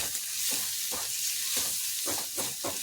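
Onions sauté in hot oil in a pan before tomato is added, a soft steady sizzle broken by a regular rhythm of spoon strokes scraping and stirring.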